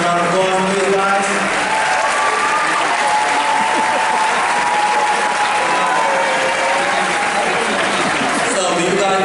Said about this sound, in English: Judge Johnson, round of applause for you guys.